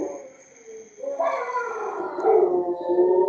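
A dog howls indoors in a long, rising, wavering cry that starts quietly after a brief lull and swells louder, heard close and alone.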